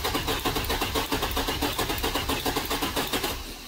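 A Corvette C5/C6 V8 cranks over on the starter during a compression test with the engine kept from firing, giving a loud, even, rapid chugging rhythm that slows slightly as it winds down at the end.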